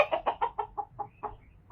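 Three backyard hens cluck in a quick series of short, close calls, several bursts in a row followed by a few softer clucks, with no speech.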